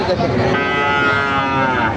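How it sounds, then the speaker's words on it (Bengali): A Sahiwal cow at a cattle market in Joypurhat moos in one long, loud, continuous low call with a rich harmonic tone, close by and filling the whole moment. "অসাধারণ একটা পাখরা গরু দেখতেছি"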